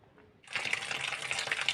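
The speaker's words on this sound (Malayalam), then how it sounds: "ഇതിലേക്ക് കുറച്ച് വെള്ളം ഒഴിച്ച് വെച്ചു." Water is poured into a cooking pot, a steady close gushing and splashing that starts after a short quiet moment and continues evenly to the end.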